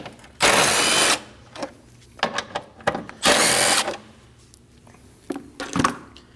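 A 10mm socket on a ratchet removes two intake bolts from a 2011-2016 Kia Optima 2.4L. Two bursts of fast clicking come close up, with short, sharp clacks and handling noises around them.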